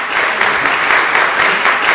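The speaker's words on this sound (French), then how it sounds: "Ça s'applaudit." A crowd claps steadily and loudly throughout, a dense, continuous round of applause with no pauses.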